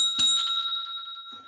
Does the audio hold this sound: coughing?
no